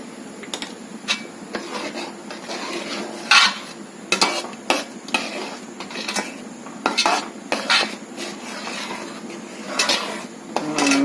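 Flattened rice and coconut halwa with sesame seeds being stirred in a pan, repeated close spoon scrapes and metallic clinks in an irregular rhythm over a faint sizzle; no speech.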